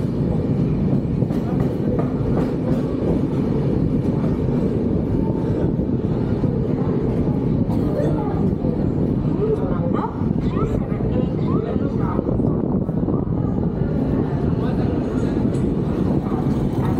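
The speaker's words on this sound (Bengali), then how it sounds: "ট্রেন গড়ানো শুরু করেছে, ছেড়ে দিচ্ছে" A long-distance passenger train begins rolling out of Bardhaman Junction after an eight-minute halt, with a steady low rumble and rattle of wheels and carriages heard from on board, continuous and fairly loud.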